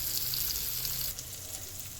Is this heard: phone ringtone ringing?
no